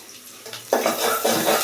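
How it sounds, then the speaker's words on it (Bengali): Onions frying in a pan while being stirred, with clattering scrapes of a utensil against the pan over a soft sizzle, close and moderately loud, no talking. "এই যেখানে আমাদের পেঁয়াজটা একদম ভাজা ভাজা হয়ে আসতেছে"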